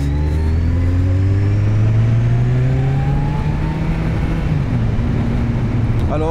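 A close, loud motorcycle engine drones steadily while riding toward Lierneux, Belgium, its pitch rising gradually then dropping slightly as the gear changes, with wind noise around it.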